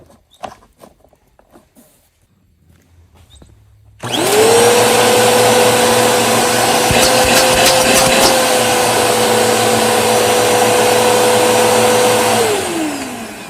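A Bissell PowerForce Helix upright vacuum cleaner, fitted with a new cord and hose, switches on after a few quiet handling clicks and runs with a steady loud whine for about eight seconds before spinning down.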